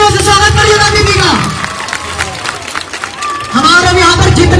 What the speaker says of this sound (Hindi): एक बार जोरदार तालियों से स्वागत करिएगा दीदी का।